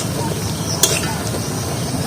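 Semolina-coated potato frying in a pan of oil, a dense continuous sizzle with a brief sharp crackle near the middle, close and steady.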